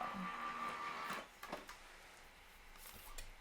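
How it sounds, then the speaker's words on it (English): A paper embossing folder feeds through a hand-cranked die-cutting machine, giving a faint mechanical whir with a steady tone that stops and leaves a few soft clicks and rustles, heard alone at low level. "let's go ahead and put the embossing folder through"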